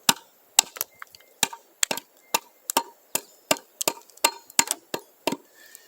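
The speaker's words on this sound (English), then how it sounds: "So now the trick is to just start hitting them, and you can use the back of the claw." Sharp, close wooden knocks as the back of a hammer claw strikes stair pieces repeatedly in a steady, slightly irregular rhythm, about a dozen hard hits with no talking.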